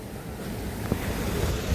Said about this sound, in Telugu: చూడండి మొత్తం వాటర్ ఎలా వెళ్తున్నాయో ఇలా బ్రిడ్జ్ కింద నుంచి క్రాస్ చేసి